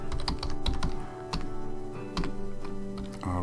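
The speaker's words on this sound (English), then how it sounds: "I will type the password." Password being typed on a computer keyboard, a quick run of crisp key clicks in uneven bursts, close and clear over a steady low hum, with no talking.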